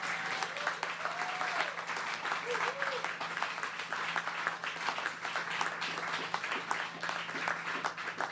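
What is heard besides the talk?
audience applause at election speech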